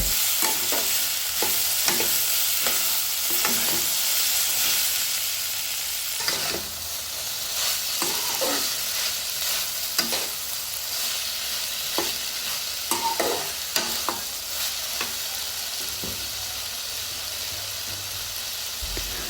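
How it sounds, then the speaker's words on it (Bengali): Chopped tomatoes stir-fried in a pan for a village-style Bangladeshi small fish curry with beans and potato, continuous loud sizzling broken by repeated rhythmic spatula scrapes, close up and without talk. "এই পর্যায়ে আমরা দিয়ে দেব কেটে রাখা টমেটো এগুলো আমরা ভালোভাবে কষিয়ে সেদ্ধ করে নেব"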